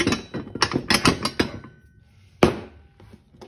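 Ratchet cranking down the ball joint nut on a John Deere mower steering drag link, a quick run of close clicking strokes followed by a pause and one sharp final crank.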